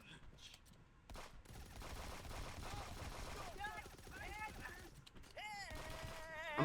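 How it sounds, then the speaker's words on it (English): Gunfire in a multiplayer shooter video game, rapid bursts of shots running steadily through the moment alongside tonal game effects, fairly faint in the mix. "Okay, Drew, he's shooting me."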